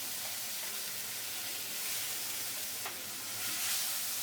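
Tomatoes frying in a pan with cumin, a quiet steady sizzle under soft stirring, with one brief scrape near the middle and no speech.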